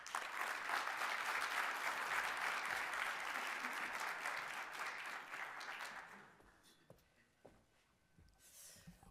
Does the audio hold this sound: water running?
no